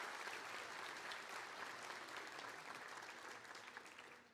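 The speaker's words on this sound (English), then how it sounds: "Let's give her a round of applause as well." Audience applause at a high school class night ceremony, a dense, even wash of many hands clapping, fairly distant and sustained for about four seconds, slowly tapering.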